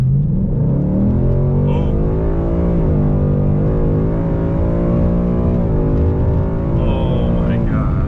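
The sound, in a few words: Ford Mustang GT accelerating hard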